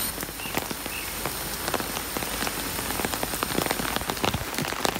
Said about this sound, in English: Even though it is raining like crazy, we are still going to bear the tour.